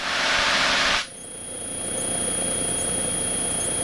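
Cessna light airplane engine under pushed throttle, a loud broadband roar that drops abruptly after a second, then settles into a steady drone with a high whine, heard from inside the cabin.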